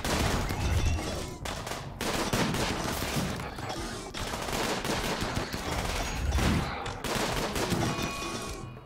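In RimWorld, a centipede mech's gunfire rattles in dense, continuous volleys, loud and sustained with brief pauses between bursts, layered with battle noise.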